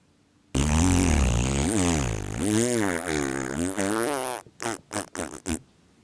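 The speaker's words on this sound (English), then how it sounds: "the duck keeps making farting noises" A cartoon duck blows long, loud, wobbling fart noises that rise and fall in pitch for several seconds, then trail off into a few short sputtering bursts.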